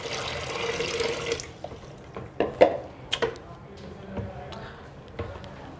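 Hot water holding three dissolved cleaning pouches is poured into a Kangen water machine, a steady splashing pour followed by scattered drips and plastic knocks, close by.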